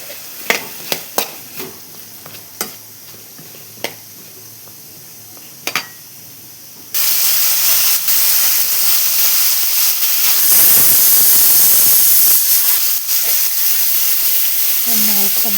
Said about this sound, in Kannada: ಇದರಲ್ಲಿ ಒಂದು 5-6 ಎಲೆಗಳಷ್ಟು ಕರಿಬೇವು, ಆಮೇಲೆ ಒಂದು 4 ಹಸಿಮೆಣಸಿಕಾಯಿ ಹಾಕಿ ಎಲ್ಲ ಕೂಡಿ ಫ್ರೈ ಮಾಡಬೇಕು.